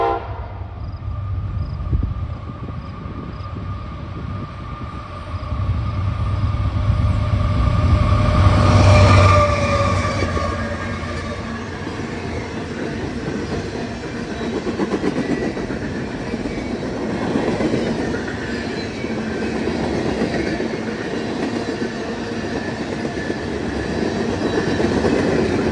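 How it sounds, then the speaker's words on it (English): A CSX manifest freight train out of Detroit, Michigan, bound for Selkirk, New York, passes close by: a sustained loud rumble with a horn blast, then continuous wheel clatter and rolling rail noise. "Here comes CSX M428, manifest traffic out of Detroit, Michigan, bound for Selkirk, New York"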